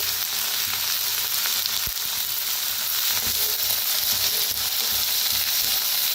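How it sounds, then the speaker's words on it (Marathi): Chopped onions with their green tops and tomatoes fry in a hot pan, giving a continuous, close sizzling hiss broken by a few faint stirring scrapes. "छान भाजून घ्यायचं कांद्याला"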